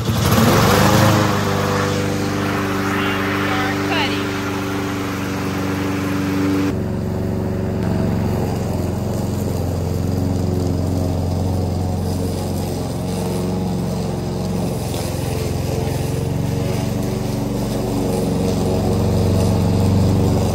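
A small engine machine cranked and then running, a loud steady droning motor with a tonal whine early on that settles into a rougher continuous rumble, close by.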